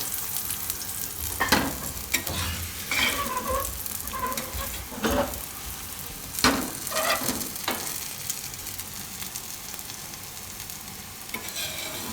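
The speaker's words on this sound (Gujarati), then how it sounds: "તેલમાં આ રીતે શેકશું" Pea and potato paratha shallow-frying in oil on a pan over low heat, a steady sizzle and crackle with occasional scraping and flipping sounds, no voices.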